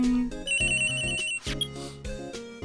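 A telephone rings in the courtroom video game Phoenix Wright: Ace Attorney, a loud electronic ringtone melody that repeats in short tonal bursts over the game's background sounds.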